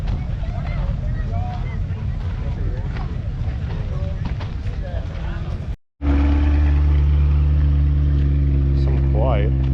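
Supercharged muscle car with a big blower idling with a deep, steady rumble at an outdoor car show, with wind noise and people talking over it before the engine note takes over.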